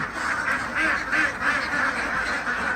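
Thai ducks quack repeatedly in a noisy chorus, close by, with the harsh calls overlapping in a rough, uneven rhythm.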